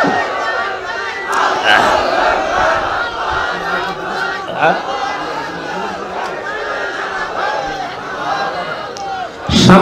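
A large crowd at an outdoor Islamic sermon gathering in Bangladesh answers a takbir call, shouting Allahu Akbar in loud chanted waves of many voices. The rallying cries repeat and swell in a rhythmic bursting pattern.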